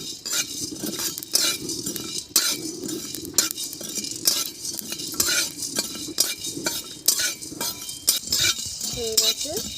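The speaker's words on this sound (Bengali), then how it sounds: "হালকা করে একটু ভেজে নেব।" Spices lightly frying for a vegetarian paneer dish crackle softly while a metal spoon stirs and clinks against the pan in repeated quick scrapes, close and steady throughout.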